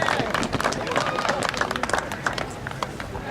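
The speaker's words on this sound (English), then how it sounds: "How about a big round of applause for Zach Proctor?" Applause for a player at a senior recognition night, with many hands clapping in a dense, lively patter and a crowd murmuring, and a voice speaking over it.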